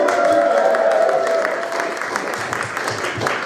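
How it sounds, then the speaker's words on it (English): A comedy club audience bursts into applause, a dense burst of clapping that starts loud and tapers slightly over a few seconds. "Look, give yourself a round of applause."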